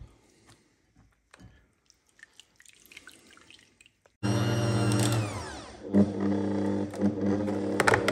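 Soaked bread roll squeezed out by hand in a home kitchen drips faint, scattered water droplets, then a loud steady grinding motor suddenly starts and drowns everything.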